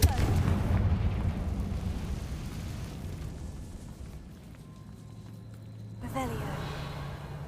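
A Confringo blasting spell explodes in Hogwarts Legacy with a loud, broadband boom that decays into a rumbling tail. A second burst hits near the end, with a voice faintly present.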